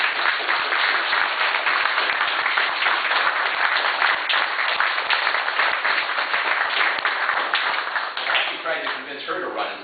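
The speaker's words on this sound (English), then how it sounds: "I just think she should get a round of applause" Audience applause honoring the speaker's wife Kate, a loud dense burst of many hands clapping that holds steady for several seconds before thinning out near the end.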